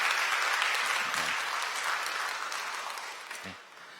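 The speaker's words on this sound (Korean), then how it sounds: "여러분 환영의 박수 부탁드립니다." A church congregation gives welcoming applause for a returning member during a Sunday morning service, a dense, steady wash of many hands clapping that slowly thins and fades toward the end.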